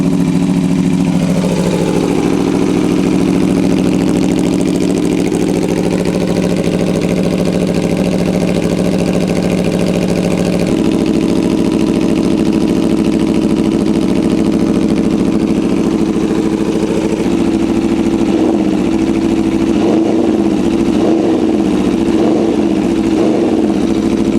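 A loud Yamaha R6 motorcycle engine idles steadily and close by, with a rough, constant rumble and a few short throttle blips toward the end.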